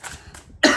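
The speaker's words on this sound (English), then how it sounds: "This freaking cough." A single sharp, loud cough bursts out near the end, following a quieter, breathy throat sound earlier in the clip.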